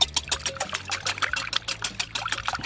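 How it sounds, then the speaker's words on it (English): Three eggs whisked lightly in a bowl, heard as a quick run of close, crisp clicks and taps that repeat rhythmically throughout. "give that a little whisk."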